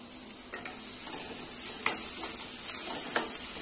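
Onion with ginger-garlic paste and a little coriander sautés in a pan, a steady sizzling hiss with occasional scrapes and clinks of a spoon stirring against the metal.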